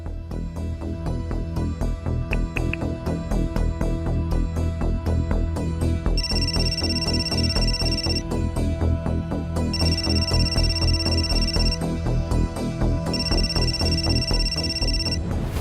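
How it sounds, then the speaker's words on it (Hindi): A mobile phone ringtone in a Hindi TV serial office scene rings in repeated loud melodic bursts over steady background music, with no talking. "ये साची की रिंगटोन है"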